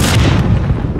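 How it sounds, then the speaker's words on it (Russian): Rocket blast in the video game Call of Duty Modern Warfare 2019, a loud, deep explosive boom with a rumbling tail that fades within about a second. "Ракета пошла! Хороший выстрел, Гэрик!"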